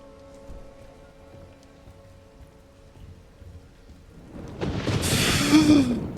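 Thunderstorm rain in Resident Evil Requiem at a hospital. Near-quiet low tones give way after about four seconds to a loud, dense hiss of heavy rain that builds to the end, with no speech.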